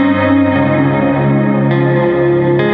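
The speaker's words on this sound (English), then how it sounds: "we have an added delay in Spatium mode, which is partly what makes it sound so drawn out and ambient" A sustained, drawn-out ambient tone runs through an audio effects unit with delay set to Spatium mode, loud and dense, with layered harmonic drones shifting at a few points.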